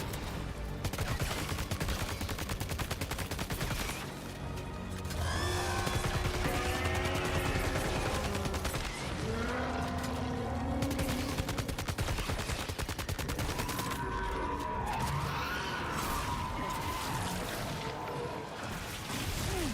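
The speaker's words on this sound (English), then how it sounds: "Got mad assault rifles now." Sustained assault rifle fire from the video game Death Stranding 2, loud and dense bursts running nearly the whole stretch, with occasional crashes and mechanical clatter layered over a game soundtrack.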